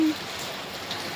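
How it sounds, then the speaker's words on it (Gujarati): Heavy rain comes down in Mahuva as a brief, even hiss of falling drops, steady and fairly close, with no talking. "ઓછું નહીં થાય ને વરસાદે ઓછો નહીં થાય"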